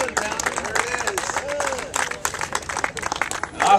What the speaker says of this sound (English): Let's give a round of applause to Run Tellman Run, the beginning of the journey.